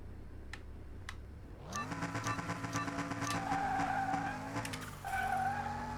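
A supercar races in the Car Mechanic video game; after a couple of faint clicks, a loud engine roars up with rising pitch and sustained tire skids and squeals run to the end, no speech.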